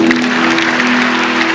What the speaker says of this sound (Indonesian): Kita berikan tepuk tangan untuk Tuhan.